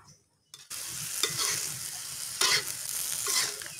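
Water poured into a pan of tempe and green chili stir-fry, setting off a loud steady sizzle and hiss after a brief quiet start, with stirring clatter on top and no talking.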